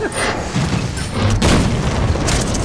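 Loud, booming artillery blasts in the video game Full Metal Furies, several heavy thuds landing close in quick succession inside a continuous roar of combat noise.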